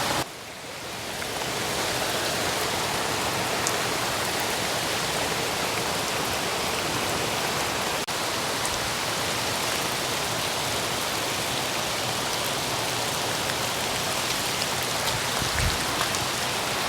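Heavy rain falling steadily in a forest at a solo survival camp, a dense, loud, unbroken hiss that holds for the full length with no voices.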